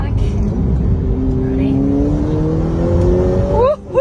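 Ferrari F8 Tributo with 710 horsepower accelerating hard from inside the cabin, a loud steady engine roar whose pitch climbs smoothly through a gear, then a quick shift near the end, with a voice over it.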